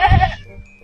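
A single goat bleats once, loud and close, a short wavering cry that fades quickly.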